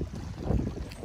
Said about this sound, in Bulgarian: Вятъра е безобразен.